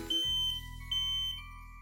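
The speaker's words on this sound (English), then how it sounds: "When water is detected, the alarm sounds, quickly alerting you to a leak." A water leak alarm sounds with two loud, high, piercing beeps, each lasting about half a second, close by with no other noise.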